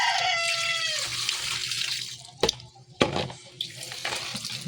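Tap water runs as washed helmet pads are rinsed at a sink, a steady close splash with a couple of sharper knocks and sloshes partway through.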